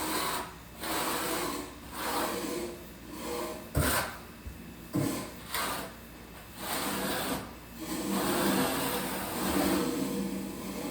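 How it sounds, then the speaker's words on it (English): A Kerdi trowel scraping excess cement up and down a shower wall being waterproofed for tile: repeated rasping strokes in uneven bursts with brief pauses and a couple of sharp knocks, close and moderately loud, no voices. "just run your Kerdi trowel all the way up and down. Let's get all the excess cement off."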